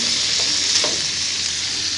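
Onions fry in a pan, turning light golden brown, with a loud continuous close sizzle and a couple of soft stirring scrapes.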